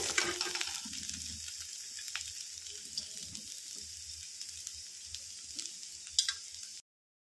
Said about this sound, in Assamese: ইমান ফ্ৰাই কৰিলোঁ তথাপিও আৰু ফ্ৰাই হৈ আছে কান্দুলি মাছ